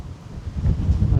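Wind buffets a DJI Mic Mini clip-on microphone outdoors around Sapporo, Hokkaido, a continuous low rumbling roar that swells toward the end, close and unbroken.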